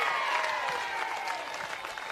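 A crowd applauding at a para women's pairs final of the World Bowls Championships, sustained clapping and cheering that swells briefly and then eases slightly, with faint voices mixed in.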